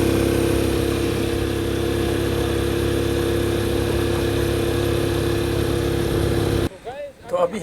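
A motorcycle running on gas, a steady mid-pitched engine drone held constantly for most of the clip before it cuts off abruptly near the end.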